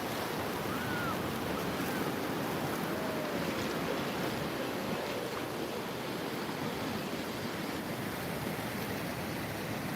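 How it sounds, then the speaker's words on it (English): Ocean surf at a San Diego beach, a broad, constant wash of waves and wind that stays loud and steady throughout, with no voices over it. "We're at the beach."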